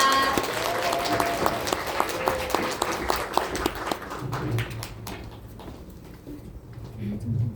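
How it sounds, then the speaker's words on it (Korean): An audience applauds to welcome a guest speaker at a business seminar, a dense, sustained patter of many hands clapping at close range, easing off toward the end as a low murmur remains. "큰 박수로 모십니다"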